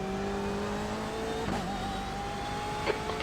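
A race car in the iRacing video game holds a steady engine drone, with a tonal whine shifting as the revs change and a couple of brief squeals partway through.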